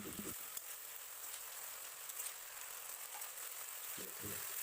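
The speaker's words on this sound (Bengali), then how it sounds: "ভালো করে মশলাটাকে ভেজে নিতে হবে" Ginger and garlic masala sizzling in hot oil while frying for chicken gizzard, a steady hiss that runs throughout at moderate level, with brief stirring clatters at the start and near the end.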